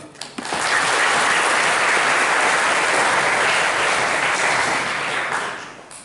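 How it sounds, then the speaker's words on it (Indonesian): Students of SMP Negeri 4 Abiansemal clap together in a hall during a study visit to SMA Taruna Nusantara, a dense, steady burst of applause that swells quickly, holds for several seconds and tapers off at the end. "Tepuk tangan dulu."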